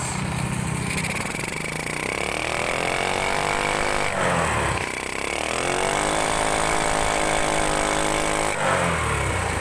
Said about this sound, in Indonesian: di sini akan saya grip gas